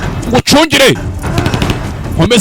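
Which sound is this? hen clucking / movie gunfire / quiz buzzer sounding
movie gunfire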